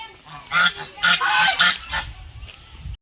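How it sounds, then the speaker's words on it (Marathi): Large white ducks at a park with animals, honking and quacking in loud bursts, several calls close together then fading, with no talk. "बदक बघा किती छान आहेत."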